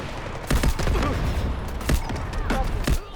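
Heavy artillery barrage in the military shooter Delta Force, with repeated loud explosions and shell impacts thudding in irregular bursts over a dense, rumbling battlefield din.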